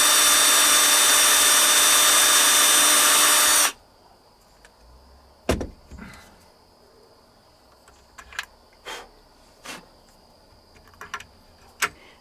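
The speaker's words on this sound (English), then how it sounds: "Just pre-drilling." A power drill pre-drills holes for push-button latches in a camper van, whining loudly and steadily for about four seconds before cutting off, followed by quiet tapping and scattered knocks.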